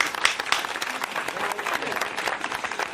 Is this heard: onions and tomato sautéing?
no